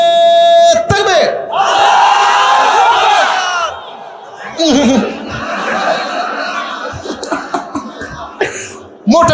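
A large crowd of married men at a religious gathering shouts the takbir in loud unison, several roaring waves of massed voices with a brief lull, then scattered laughter and chatter.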